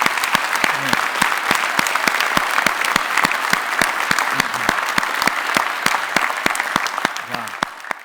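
An audience applauds at a live-streamed event, a dense, steady patter of many clapping hands that carries on for several seconds.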